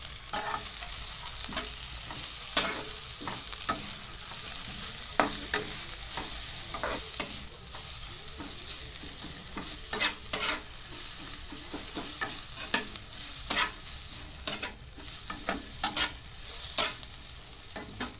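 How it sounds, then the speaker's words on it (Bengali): Capsicum, carrot and shredded cabbage fry in a pan for a paneer roll filling, a constant close sizzle broken by frequent irregular spatula scrapes and stirs. "ক্যাপসিকামটাও দু থেকে তিন মিনিট ভেজে এরপর দিয়ে দেবো গাজর ও বাঁধাকপি কুচি"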